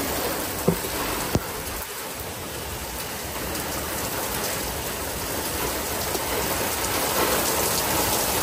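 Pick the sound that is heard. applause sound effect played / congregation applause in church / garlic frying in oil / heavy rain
heavy rain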